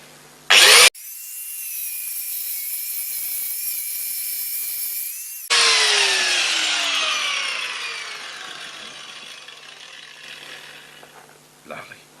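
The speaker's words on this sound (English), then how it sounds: "I'm going to grind away from my camera." Power grinder biting into an old wall of concrete and lime, a loud, close, high screaming whine that cuts in sharply, holds steady, then winds down and fades, with a voice briefly at the start.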